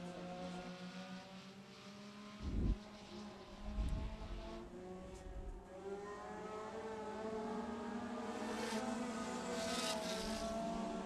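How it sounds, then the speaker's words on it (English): Race cars run qualifying laps at Lake Cumberland Speedway, their engines droning from a distance and swelling as they come around, with a few sharp knocks early on. "Marty Gilley goes fourth quick on his first lap."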